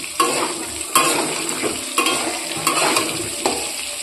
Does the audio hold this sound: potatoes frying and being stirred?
yes